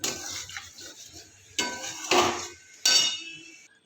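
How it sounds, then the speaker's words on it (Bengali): A lid set down on a cooking pot while making paneer curry, heard as a few sharp metallic clanks and clinks with a short watery splash, loud and close with quiet pauses between them. "এবার একটুখানি জল দিয়ে ঢাকা দেব"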